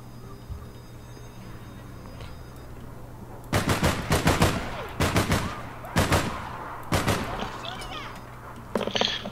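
Bursts of automatic gunfire from the online shooter APB Reloaded, several sharp rapid volleys of machine-gun fire loud and close over low game ambience, with pauses between bursts.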